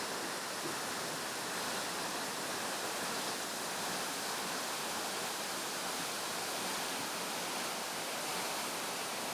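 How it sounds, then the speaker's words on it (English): A waterfall in Costa Rica roars as a dense, constant broadband rush of falling water, steady and fairly distant, with no voices. "It was a beautiful waterfall,"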